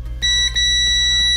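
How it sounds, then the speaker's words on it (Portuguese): A multimeter set to continuity beeps while its probes test a good electronic fuse. The tone is loud and steady, sounds alone, and cuts out once briefly. "deu bip, o fusível tá bom."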